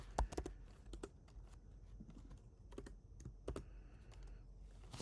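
Quiet keystrokes on a computer keyboard, a burst of irregular clicks and taps at close range, with short pauses between clusters and no talking.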